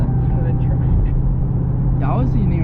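Supercharged whine and engine roar from a 2016 Dodge Challenger SRT Hellcat pulling hard in third gear, loud and steady throughout, with people talking over it.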